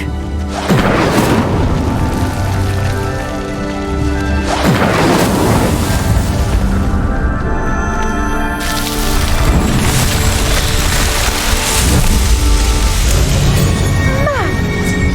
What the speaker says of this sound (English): The flames make the pyre sink.